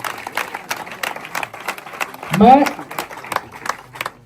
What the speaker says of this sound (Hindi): बार जोरदार ताली बजाइए।